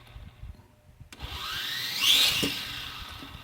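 Small motors of an MJX X600 mini hexacopter spin up after the power and controller are switched on, a thin whirring whine that rises from near silence, peaks, then holds steady and close.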